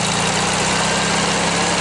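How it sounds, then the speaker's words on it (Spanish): A Volkswagen Beetle engine running steadily close by, a continuous low, rough idling drone that stays even in level with no voices over it. "nos van a hacer el honor de prender el bochito para que ustedes puedan escuchar el motor"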